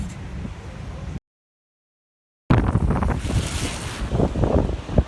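Strong storm wind roars at a seaside pier during a major storm, buffeting the microphone in heavy gusts with waves surging beneath, loud and close, briefly cutting out before returning stronger.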